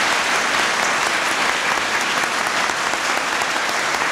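An audience applauds award recipients at a presidential senior executive awards presentation, steady dense clapping from a large crowd that holds at full strength throughout.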